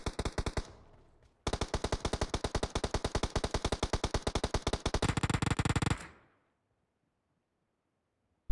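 An enemy fires in PUBG Mobile: a long, fast automatic burst of rapid evenly spaced shots after a brief opening volley, then the sound cuts off into silence.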